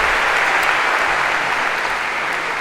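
Sustained round of applause filling a Harvard lecture hall during a CS50 class, dense steady clapping from a large audience, loud and even throughout with no pauses.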